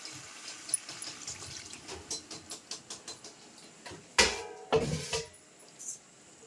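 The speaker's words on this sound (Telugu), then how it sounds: "ఇప్పుడైతే వాటర్ యాడ్ చేసుకోవాలి" Water is poured into a pot of country chicken curry, a couple of splashing gushes after soft, steady ticking and trickling sounds nearby.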